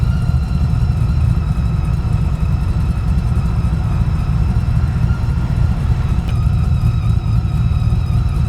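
A 1969 Chevelle restomod with a 1,000-horsepower supercharged 427 LS V8 rumbles steadily from inside the car, a deep, loud, continuous engine drone with a faint whine above it and no talking.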